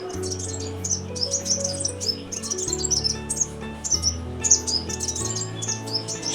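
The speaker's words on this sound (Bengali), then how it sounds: "এখন ঘরে এসে দেখি কত মধুর সুরে পাখিগুলো ডাকছে" Birds sing sweetly around a village house, a lively mix of bright overlapping chirps and tweets, fairly close, over a low steady humming drone.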